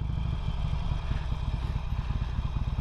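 A 2008 Harley Davidson Sportster 883L rides along, its engine giving off a close, steady, pulsing low rumble with some rattling clatter and no talk over it.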